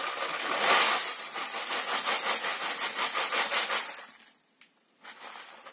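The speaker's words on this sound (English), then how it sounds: "I'm just going to weigh out a random number of cereal for you guys to come along and carb count with me" Dry cereal pours onto a kitchen scale in a steady, close crunchy rattle lasting about four seconds. The pour stops briefly, then a short trickle follows.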